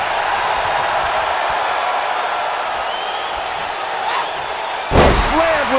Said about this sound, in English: Slammed with authority.